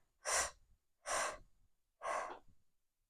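Deep diaphragmatic breathing exercise: three strong, airy breaths spaced about a second apart, each a close, loud rush of air with a brief tail, with no talk.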